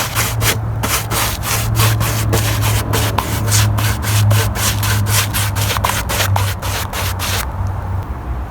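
Clear wood finish being brushed onto raw pine with a narrow brush, giving loud, close, rhythmic bristle strokes in a fast repeating back-and-forth pattern that stops near the end, with no talking.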